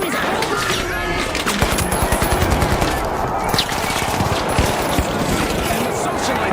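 Rapid automatic gunfire and repeated shots in a competitive video game match, dense bursts continuing throughout with a voice commentating over them.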